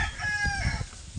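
A three-bit black hen, a fighting-cock breed, calls while laying eggs, giving a short close cackling cluck with a brief crow-like tone.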